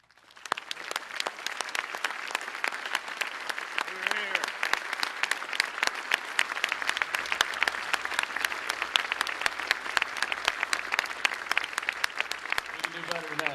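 Sustained crowd applause at the Pearl Harbor Remembrance Day commemoration ceremony, dense even clapping from a large outdoor gathering that builds and holds steadily for over ten seconds.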